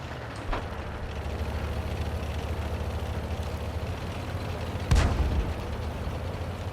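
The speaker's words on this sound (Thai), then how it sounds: "เดี๋ยวผมจะขึ้นไปยิงให้ดู ว่ามันยิงได้นะ" A T78 tank destroyer's cannon in World of Tanks: two heavy booming shots, the first softer and the second sharper and louder, over a constant low engine rumble.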